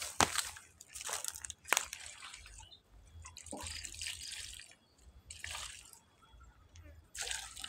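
Water splashes and trickles in uneven bursts, pouring onto soil and leaves while watering a newly planted eggplant, with quiet pauses between the spurts.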